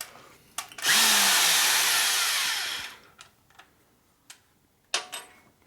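A power drill reams out the fuel tank bung on a 1972 Harley-Davidson XL Ironhead Sportster bobber, a loud whining burst of about two seconds that winds down, followed by scattered light metallic taps and clicks.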